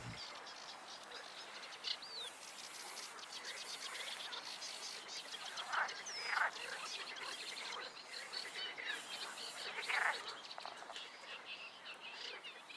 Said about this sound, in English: The life of the great reed warbler is largely hidden by the reeds.